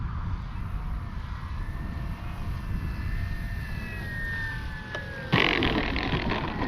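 A small E-flite Carbon Z T-28 RC model plane's engine hums steadily over rushing wind, then a sudden louder burst of noise as it touches down.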